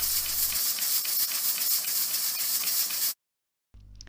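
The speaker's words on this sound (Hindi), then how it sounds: "प्रेशर हमने रिलीज़ किया और इसका लिड खोला।" Steam hisses steadily from a pressure cooker holding carrots for halwa, a loud continuous release that stops abruptly, then briefly resumes.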